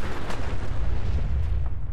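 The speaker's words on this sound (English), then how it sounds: "So that's going to make the car explode." A car explodes after a landmine blast in the Fallout 4 video game, giving off a sustained, heavy rumbling roar of fire and debris with no voices.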